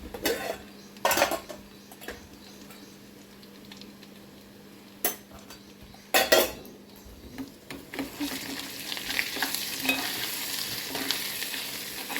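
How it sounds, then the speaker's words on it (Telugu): Tomatoes frying and being stirred in a pan for a traditional tomato pachadi, with a low steady sizzle and sharp scraping clinks of a spoon against the metal pan at irregular intervals, no talk. "ఈ లోపల ఇంకా కొంచెం ఫ్రై అవుతుంది"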